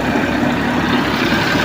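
Pearl millet being threshed by machine in a farm field, a steady, loud engine drone with a constant low hum and dense rattling texture throughout, no talk.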